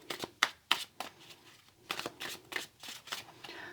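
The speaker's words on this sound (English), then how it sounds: "I'm just going to shuffle these cards for the first part." Crisp riffling of playing cards being shuffled, repeated bursts of flicking and snapping close up, with soft handling between.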